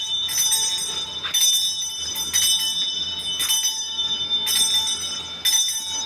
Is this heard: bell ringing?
yes